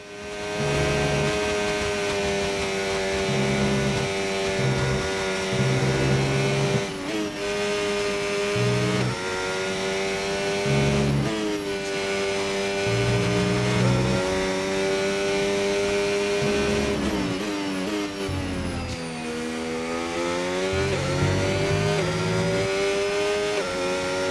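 A Williams FW47 Formula 1 car's engine sings steadily through a lap in the racing game F1 25 at the Qatar circuit, its high, loud, nearly continuous whine dipping and climbing through repeated gear shifts and braking zones.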